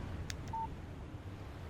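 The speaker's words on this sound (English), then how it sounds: "Text message from Barry." A phone in the video game Alan Wake gives a short, single electronic beep for a text message, preceded by a faint click, over a quiet hum.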